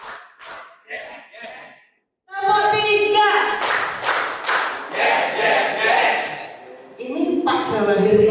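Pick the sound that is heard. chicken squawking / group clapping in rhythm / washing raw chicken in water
group clapping in rhythm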